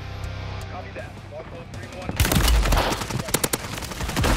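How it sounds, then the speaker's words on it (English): Airstrike explosions in the video game Rebirth Resurgence, a heavy series of booming blasts and sharp cracks that erupt after a quieter stretch and continue loudly, layered over game noise and a voice talking. "Airstrike!"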